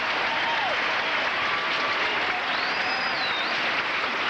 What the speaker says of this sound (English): the crowd here is giving him a standing ovation